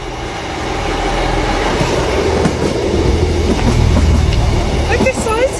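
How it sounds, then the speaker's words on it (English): A passing train rumbles by with a steady rolling clatter of wheels on rails and a faint squeal near the end, loud and close, while people talk over it. "You see the train?"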